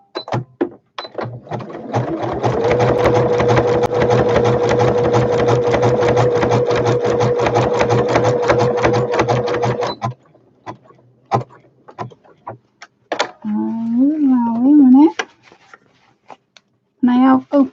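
A sewing machine zigzag-stitches fabric for a toiletry bag, a rapid run of close mechanical clatter with a steady motor tone for about eight seconds, then stops, and a voice speaks briefly near the end.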